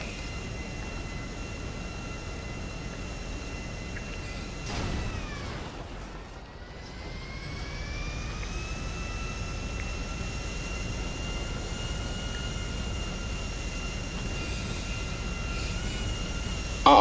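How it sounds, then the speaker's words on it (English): A plane in GTA V on a fast landing approach, its steady jet engine drone running continuously with shifting tonal whine and a brief dip midway, no voices. "I almost successfully landed a plane."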